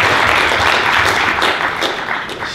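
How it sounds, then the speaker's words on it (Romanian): Audience applause at an expert panel talk on AI and maps, a steady, dense burst of clapping from a crowd that holds loud for a few seconds and then begins to thin. "Haideți să aplaudăm."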